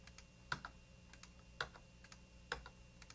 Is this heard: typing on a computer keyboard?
yes